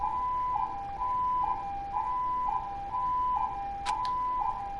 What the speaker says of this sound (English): A siren began.